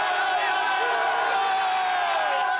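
Kansas Jayhawks basketball fans celebrating an Elite Eight victory on Mass Street, a dense, sustained roar of cheering and whooping voices filling the street at steady volume, with scattered shouts rising above the crowd.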